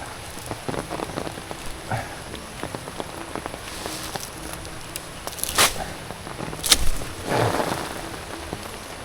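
Steady rain patters on surfaces outdoors on a goat farm, a dense continuous hiss with heavier drips and splashes near the end, no voices.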